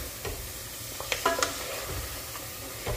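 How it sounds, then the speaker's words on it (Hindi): Mutton frying with spices in a pan while being stirred, a soft steady sizzle under scattered scraping and clinking strokes of the spoon, close and moderate in level. "क्योंकि कच्चे गोश्त की भुनाई जब तक नहीं होगी वो अच्छा टेस्ट नहीं देगा।"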